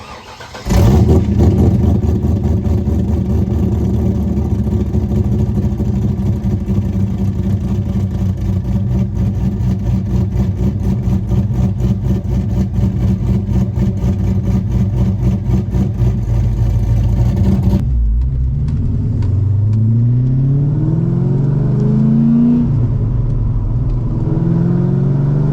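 A loud cammed Chevrolet Corvette C5 V8 starts up and rumbles through a lumpy, choppy idle and cruise, close and steady, then shifts to rising revs as it pulls away.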